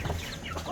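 A brockish hen that has gone broody gives a short, soft cluck or two, heard faintly and alone.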